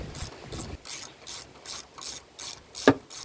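A hand ratchet tightens a bolt on a 2019 Kawasaki Vulcan Classic LT motorcycle, close-up, with about eight evenly spaced raspy clicking strokes and a sharper metallic knock near the end, with no talking.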